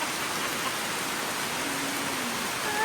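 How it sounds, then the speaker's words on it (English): Heavy rain pours down steadily in a jungle at the Palenque ruins in Mexico, a dense, continuous hiss that stays loud and even throughout with no talking. "It has really started to really rain hard."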